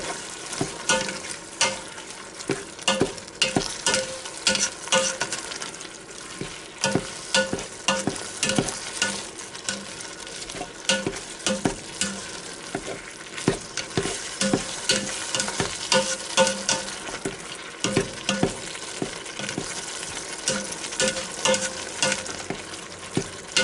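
Ground beef and onions sizzle and fry in a Ninja Foodi Deluxe while a spoon stirs them, giving repeated scraping clicks over a steady close crackle, with no voices.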